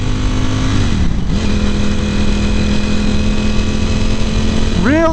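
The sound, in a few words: Ducati Panigale V4 motorcycle engine revving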